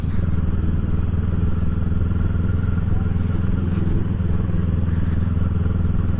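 An automatic scooter cruises along a rural road, its steady low engine drone and wind rumble continuous and close throughout, with no speech.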